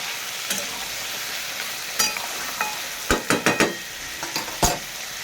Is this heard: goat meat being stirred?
yes